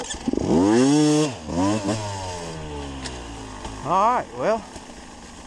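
A 2022 Beta 200RR two-stroke dirt bike engine fires up in gear, its sharp revs rising and falling in several quick bursts, with someone speaking briefly at the start.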